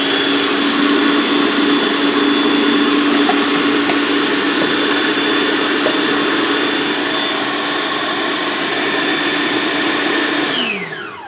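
Food processor blending a hazelnut dressing, a loud, steady high-pitched whir running continuously for several seconds before winding down at the end.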